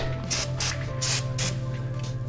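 Brake cleaner sprays onto the oil pan of a 2010 Pontiac G6 with a 3.5L engine in four quick, close hissing bursts over a steady low electrical hum.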